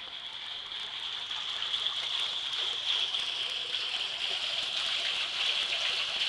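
Water draining through an auto siphon in a 330 gallon tote aquaponics system, a steady close gushing and trickling hiss that runs continuously and grows slightly louder, with no talk.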